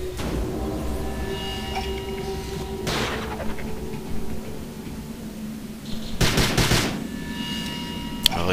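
Gunfire in the video game Prey, a couple of sharp bursts of shots cutting through a steady humming game soundscape, with no talk.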